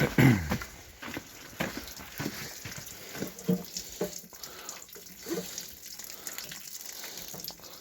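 On a farm, water runs from a tap in a light, uneven splashing stream with clattering and handling noises mixed in, fairly close and soft.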